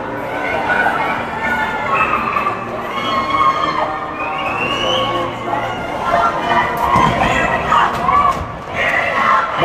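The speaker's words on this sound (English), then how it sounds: "The Mission faithful cheering him on." Home fans at an ice rink during a youth hockey state final keep up a steady, loud roar of cheering and shouting, with voices rising in waves and no pauses.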